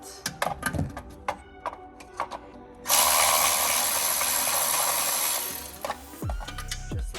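An electric ratchet whirs in short bursts while removing the heat shield on a Porsche 991 911 GT3. It gives clicking mechanical pulses, then a sustained loud buzzing run of about three seconds and a few trailing clicks, close up.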